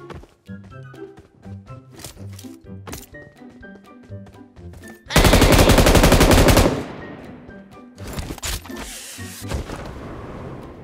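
Gunfire in the mobile battle game PUBG Mobile, scattered single shots and bursts, then a loud sustained automatic volley, followed by more sporadic shots and impacts.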